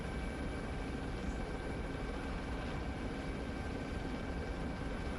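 An aircraft runs on the ground before takeoff, producing a steady broadband engine drone with a faint high whine. The roar is constant and fairly close, with no voices.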